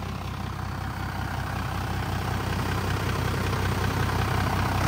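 A Ford F250 XLT pickup truck tuned to over 400 horsepower by CTMD Performance runs close by, its heavy engine droning steadily and building slightly in loudness, with no voices.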